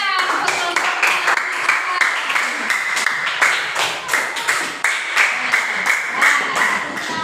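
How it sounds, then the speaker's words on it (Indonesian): Hand clapping from a small classroom group at an Islamic religious education presentation, sharp individual claps in a loose, uneven rhythm, close and fairly loud, with voices under the claps. "Tepuk tangan."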